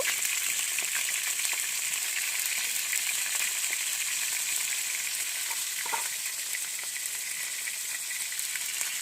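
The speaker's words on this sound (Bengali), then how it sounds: "এবারে ভালো করে এটাকে নেড়ে লাল লাল করে ভেজে নিতে হবে" Potato pieces with turmeric and salt frying in hot oil for potato curry, a loud, steady, continuous sizzle with faint stirring underneath throughout.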